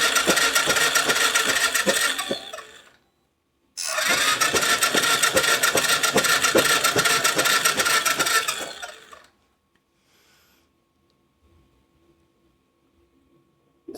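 A small motor being turned over, seen through a clear acrylic panel in a metal housing, gives two bursts of dense mechanical clatter, about three and five seconds long, separated by a brief silence before it goes quiet.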